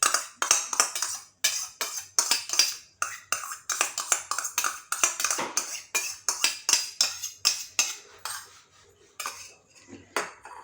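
Yogurt being stirred into rava dosa batter in a bowl, a steady run of rapid metallic spoon clinks and scrapes against the bowl, close and fairly loud, slowing and thinning out toward the end.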